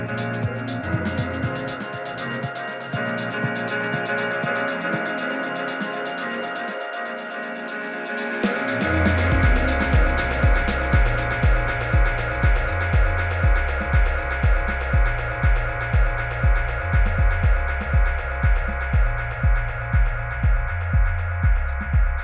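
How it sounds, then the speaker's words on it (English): Ecler Warm2 rotary DJ mixer running a track through its echo effect: sustained tonal music with a steady beat that swells partway in, then repeating rhythmic pulses trailing off as echoes, loud and alone without talk. "So an example for the echo."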